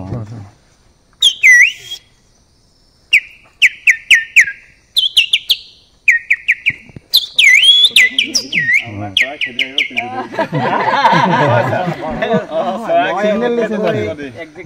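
A person whistles to imitate a small bird's call, giving sharp, close chirps in short bursts. The whistles start sparse and quicken into a rapid trill, with some speech in between.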